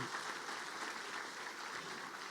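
A church congregation claps for the Lord during a Catholic priest's sermon, steady dense applause that fills the whole stretch at a moderate, slightly distant level.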